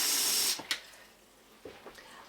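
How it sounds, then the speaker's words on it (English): Cold water runs hard from a tap over beef pieces set to soak, a loud steady hiss for about half a second before cutting off, followed by faint clinks and handling sounds. "So what I'm going to do now is cover them in cold water"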